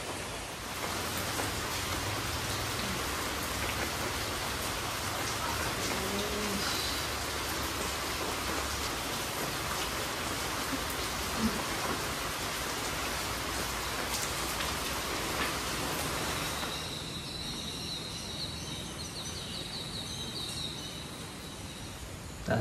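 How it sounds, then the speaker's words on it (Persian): Steady rain falls in Sri Lanka, a dense even hiss of drops hitting surfaces that carries on for over twenty seconds, with faint birdsong rising near the end as the rain grows a little softer. "از صبح تا الان داره بارون میاد."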